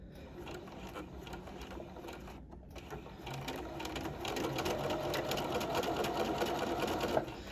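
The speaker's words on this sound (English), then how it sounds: "we are stitching those seam allowances down to our facing" A sewing machine runs steadily while stitching seam allowances down to a fabric facing, a quiet, continuous whirr that grows slightly louder toward the end.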